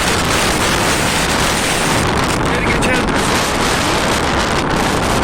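Strong lodos wind storm battering Ereğli's Toros neighborhood, a loud, constant roar of gusting wind buffeting the microphone throughout, with a brief voice speaking over it.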